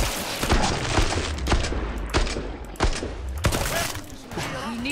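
Rapid gunfire from the video game Killing Floor 2, with repeated loud shots and sharp bursts over a dense, busy background of game effects, with faint voices present.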